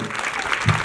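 A short burst of crowd applause rises at a farming-policy speech event, brief and fairly loud, with a murmur of voices under the clapping.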